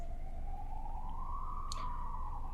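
A siren passes outside, a single rising and falling wail heard at a distance over steady background noise, with no voices.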